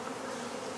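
Agitated honey bees buzzing all around, a dense continuous swarm hum that is close and loud with no voices over it.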